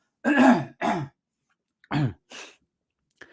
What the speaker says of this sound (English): I'm constantly clearing my throat